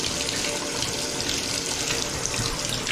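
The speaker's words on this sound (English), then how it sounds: "Oh, you gotta tilt it to get the hot water." Hot water runs from a tilted faucet during a house inspection, giving a loud, steady rushing hiss that holds unchanged throughout.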